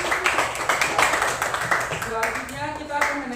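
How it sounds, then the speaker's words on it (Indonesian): Classroom applause after a student group's presentation, a few pupils clapping in uneven bursts, fairly close, with voices talking over it toward the end. "Ya, tepuk tangan dulu."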